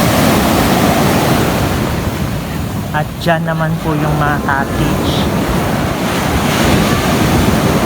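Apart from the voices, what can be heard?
strong sea waves on beach, wind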